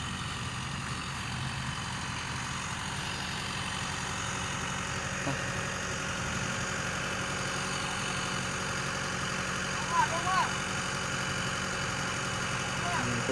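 An Isuzu NMR 130-horsepower six-wheel dump truck engine idles with a steady low rumble and faint mechanical whine, while a person talks nearby over the drone.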